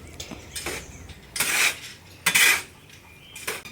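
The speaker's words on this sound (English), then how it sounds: "The easiest way of mixing concrete by hand is: first you mix just the sand and the cement together." Sand and cement are mixed by hand for concrete. Two loud, gritty scraping strokes stand out, with fainter shovel scrapes before and after them.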